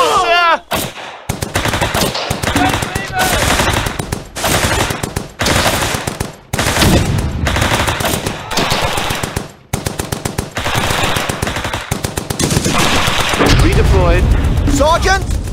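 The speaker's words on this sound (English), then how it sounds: "Sergeant! We're under heavy fire!" Heavy machine-gun and rifle fire rattles through a World War II battle in a war video game on the Colombelles map, with dense bursts, booms and near-constant shooting, and shouted soldier voices in between.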